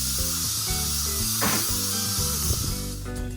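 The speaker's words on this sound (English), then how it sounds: "I had to give it a spray with this winter spice scent" A brief hissing spritz from a winter-spice scented room spray bottle, heard over steady music playing in the background.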